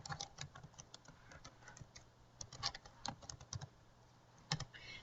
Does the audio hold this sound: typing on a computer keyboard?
yes